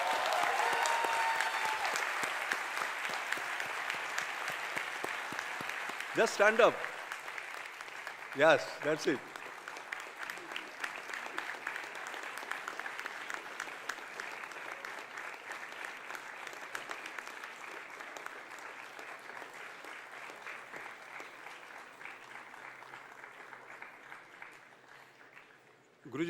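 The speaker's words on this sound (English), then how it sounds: "let us give him a thunderous applause" Thunderous applause from a convocation audience as a guest of honour walks in, a dense, sustained wash of clapping that slowly fades over many seconds, with a brief spoken remark and a couple of short bumps partway through.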